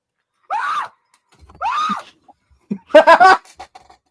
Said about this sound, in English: I have to hear my screams.